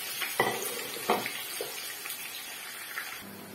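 Onions for spinach soup frying in a pan, a steady sizzle with a few louder bursts and stirring clatters near the start, close and moderately loud, with no talking.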